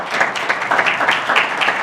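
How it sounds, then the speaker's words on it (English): A memorial service audience claps together in a steady, dense wash of hand claps lasting about two seconds, even in level and without a break. "Let's clap for Alan."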